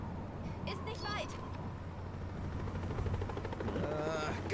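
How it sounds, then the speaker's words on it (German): A helicopter in the video game Resident Evil 6 gives a steady, loud rotor and engine roar that fills the whole stretch, with voices over it. "Jetzt auch noch ein Hubschrauber?"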